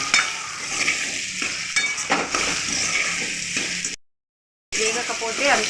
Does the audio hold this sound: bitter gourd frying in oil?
yes